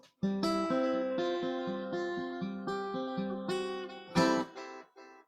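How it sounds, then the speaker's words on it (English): Clean notes from a carbon fiber electric guitar with delay, each plucked tone echoing and trailing off, played as a slow melodic line with a brighter strum near the end. "This is a carbon fiber guitar."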